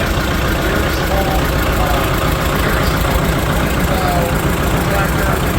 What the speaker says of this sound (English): Here we have a little Farm All B, 1946.